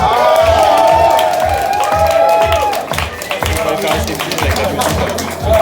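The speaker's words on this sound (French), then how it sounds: "On peut applaudir cette petite favorite." An audience at a chili pepper tasting contest in a brewery applauds and cheers, with rhythmic clapping and crowd shouts over loud background music, voices mixed in throughout.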